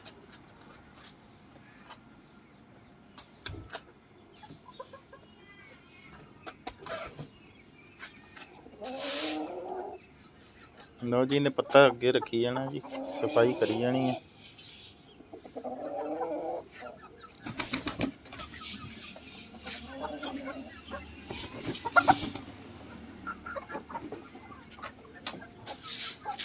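Chickens at a poultry farm house cluck and call in irregular bursts, some fairly close and loud, with wing flaps and someone talking at intervals.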